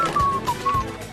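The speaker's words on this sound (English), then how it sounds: "Whistle." Short high whistle tones sounded during an acrobatic performance in Beijing, China, a few thin pitched notes with brief gaps, moderately close, over faint background noise.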